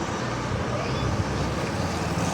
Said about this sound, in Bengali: আর কিছু মোটরসাইকেল যাচ্ছে